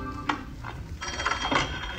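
A telephone rings in a film scene heard in a cinema: a few quick, trilling ring bursts, moderately faint over a low background hum.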